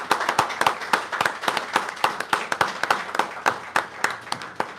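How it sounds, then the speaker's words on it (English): A congregation claps through a round of applause at a Shabbat tabernacle service, steady overlapping hand claps from a modest crowd, fairly close and continuous for several seconds with no talking over it. "Let's give the Most High another round of applause for giving us the Shabbat tabernacle."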